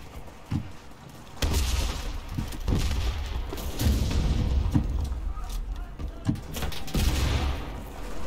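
Loud booming blasts and gunfire in the video game Enlisted, including a grenade explosion, with heavy thuds recurring across the clip amid continuous battle noise and a brief voice.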